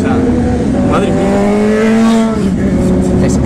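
A Ferrari speeding past at over 200 km/h, its engine roaring loudly with a rising and falling pitch as it goes by, while people talk over it.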